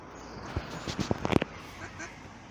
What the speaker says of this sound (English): Hear them cheeping away. Proud mummy duck there.